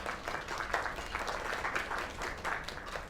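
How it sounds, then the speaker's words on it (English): Crowd applause in the video game Lake after a singer's performance, a fairly steady wash of clapping at moderate loudness with no voices over it. "Another round of applause."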